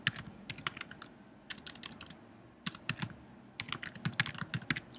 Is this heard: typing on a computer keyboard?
yes